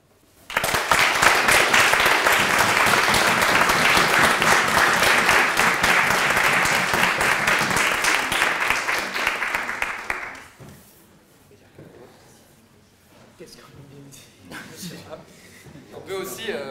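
An audience applauds loudly and steadily at the close of a mock trial for jurors, the clapping dense for about ten seconds before fading into scattered claps, murmurs and voices.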